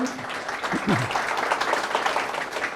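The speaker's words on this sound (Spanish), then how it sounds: "Le agradecemos por otro aplauso" Audience applause after a closing lecture at an astronomy education congress, a steady moderate patter of many hands with a brief voice heard at the start.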